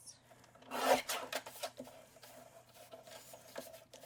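A paper sentiment strip being trimmed on a paper trimmer during card making, with a quiet rasping slide of the blade across paper, one firmer stroke early on followed by lighter scraping rubs, close and soft.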